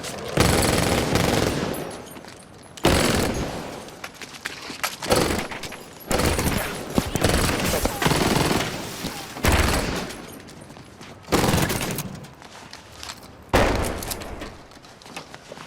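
An Intratec TEC-9 pistol fires in repeated loud strings of rapid shots, separated by short pauses, with several bursts coming close together.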